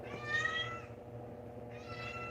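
A mother cat meows twice, close and fairly loud, the two calls separated by a short pause, with a quiet indoor background.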